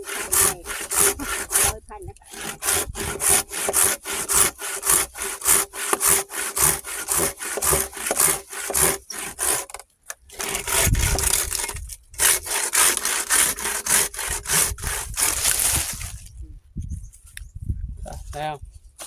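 A hand saw cuts through wood in quick, rhythmic back-and-forth strokes, close and loud, pausing briefly a couple of times while a voice speaks underneath.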